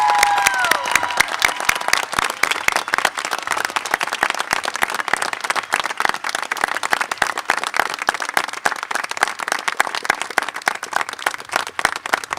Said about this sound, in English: Let us show our appreciation and gratitude with a final round of applause.